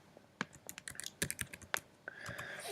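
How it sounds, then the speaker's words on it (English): Tweet typed on a computer keyboard: a quick run of close, crisp key clicks in irregular rhythm, followed by a brief softer hum toward the end. "I can type in my message"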